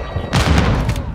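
A grenade blast in Call of Duty: Modern Warfare II, one loud, close booming explosion with a deep thump and a short rumbling tail.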